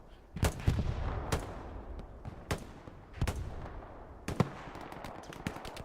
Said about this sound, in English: Rocket coming back in